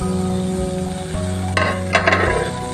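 Onion, carrot and beans sautéing in a pan for paneer biryani, a low steady sizzle with a few light clinks and scrapes of a spoon near the end.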